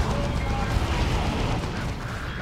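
Artillery fire in the Warhammer 40,000: Dawn of War II video game: a dense, continuous rumble of booming explosions fills the scene, with battle noise and faint voices under it.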